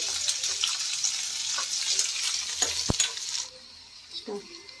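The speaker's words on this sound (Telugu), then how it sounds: "ఉల్లిగడ్డలు వేసుకుంటున్నా వేసుకొని కలుపుకోవాలి" Sliced onions hit hot oil in a pan and sizzle loudly, with stirring scrapes, a sharp utensil clank, then the frying quiets to a low hiss and soft movement.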